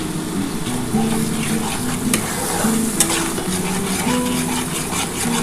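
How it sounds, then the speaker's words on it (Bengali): Spice paste with a splash of water being fried and stirred for a silver carp fish curry, a constant close sizzle with rhythmic scraping and occasional clinks of a spoon against the pan. "আমি এবার এর মধ্যে একটু সামান্য মশলার জল দিয়ে কষাচ্ছি।"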